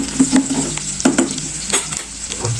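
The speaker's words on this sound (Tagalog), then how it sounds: "Nigisa ko na siya lahat, guys." Bagoong shrimp paste sautéing with onion in a pan, a steady sizzle broken by several sharp scraping stirs of a utensil against the pan, close and alone.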